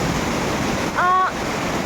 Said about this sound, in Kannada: ಅಲೆಗಳ ಶಬ್ದ ನನ್ನ ಚಿಂತೆಗಳನ್ನೆಲ್ಲ ಅಳಿಸ್ಬಿಡುತ್ತೆ